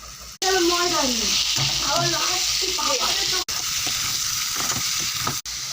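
Chicken mince fries with onions in a pan for momo filling, a steady crackling sizzle under a person talking, with a few sharp clicks breaking the sound.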